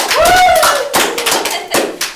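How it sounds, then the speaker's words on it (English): A round of applause from a classroom group, loud and close clapping that swells at once, then thins out into scattered claps with a few late bursts. "Can we give her a round of applause?"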